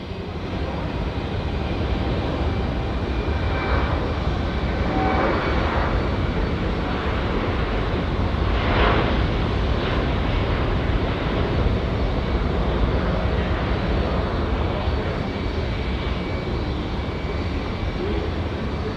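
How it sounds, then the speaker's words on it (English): A Boeing 787 Dreamliner jet departs Auckland Airport on its way to Sydney, a loud, sustained engine roar that swells slightly midway and holds steady throughout, with no talk. "Let me just watch the 787 service departing here off to Sydney."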